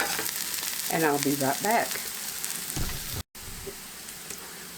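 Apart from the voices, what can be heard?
garlic sizzling and frying in a pan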